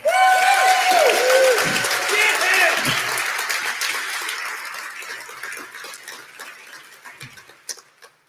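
Conference audience applause, loud and dense at first with some voices over it, then thinning into scattered claps and fading out over about eight seconds.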